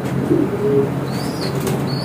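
A pigeon flaps its wings while being unboxed on delivery, a soft fluttering under a steady background hiss and hum.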